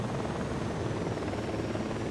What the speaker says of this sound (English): I'm shooting this helicopter